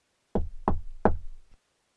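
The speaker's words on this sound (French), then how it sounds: "À peine eut-il refermé la porte que le loup frappa." Three firm, evenly spaced knocks on a wooden door, close and sharp with a short hollow ring, followed by a faint fourth tap, with silence before and after.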